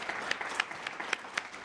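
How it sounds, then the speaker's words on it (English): An audience at a Chamber of Commerce business event applauds the ambassadors with a brisk patter of clapping at moderate volume from a modest crowd. "So how about a round of applause for all of our"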